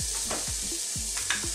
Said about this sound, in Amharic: ሽንኩርት እንጨምራለን።